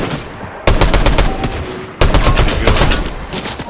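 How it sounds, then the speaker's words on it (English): Automatic gunfire in the video game Fortnite, with two loud, sustained rapid bursts of shots, the second starting after a short gap, close and dominant, with no talking. "I got shot at from behind"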